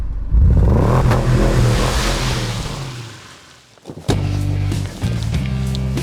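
A Lexus SUV drives past and accelerates, its engine note climbing strongly, dipping briefly partway through, then surging loud again with road roar.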